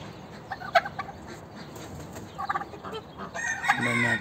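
Chickens and a rooster kick up a fuss in a chicken coop: close squawks and clucks in scattered bursts, wing flapping, and a loud crowing call near the end.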